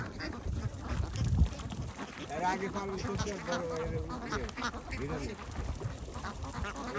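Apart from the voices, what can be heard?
ducks quacking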